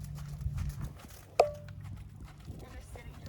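A horse's hooves beating in a sitting trot in a riding arena, faint soft thuds with one sharper knock, under quiet background murmur.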